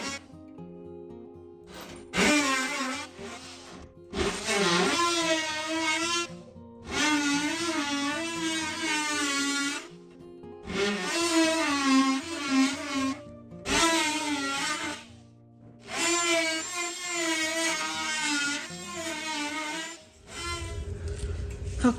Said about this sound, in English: rather than ruin my saw, I'll use the oscillating tool